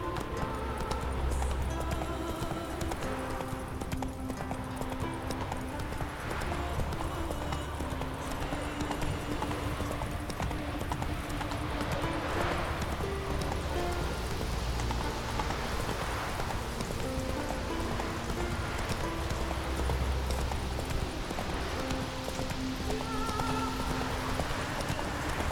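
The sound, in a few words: horse Roach galloping, from video game Witcher 3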